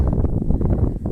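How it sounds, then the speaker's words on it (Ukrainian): Low, rumbling gusts of wind buffet the microphone steadily, a dense roar with no voices. "Це такий в нас вітер."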